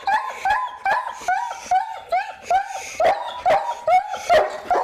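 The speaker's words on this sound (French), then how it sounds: "s'il aboie comme ça, c'est que ça va pas si mal que ça" A dog at a veterinary clinic gives a rapid, regular series of loud, high yelping barks mixed with whimpers, about ten sharp cries close by.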